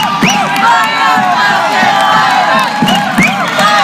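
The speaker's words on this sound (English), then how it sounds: "The crowds are going wild. I love it." A high school volleyball crowd in the fourth set of Briar Woods vs Patrick Henry, loudly cheering, whooping and shouting together, with shrill individual yells rising over a steady roar.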